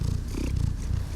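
A domestic cat purrs steadily and close, a continuous low rumbling with no talk over it, near a bagless Bissell canister vacuum cleaner.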